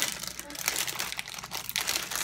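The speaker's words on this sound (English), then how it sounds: "let's show it to you out of the plastic because it was getting all crinkly" Plastic packaging crinkling and crackling steadily while a toy is unboxed, close and fairly loud, with continuous rustling and bursts of sharper crunches.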